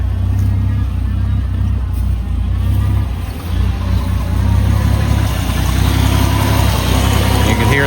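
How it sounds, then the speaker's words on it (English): A carbureted truck engine, cold and without a choke, idles with a low, uneven rumble and slight unsteady pulsing, close and loud, running on without talk. "You can hear the uneasy idle because it's a little cold and I don't have a choke on it."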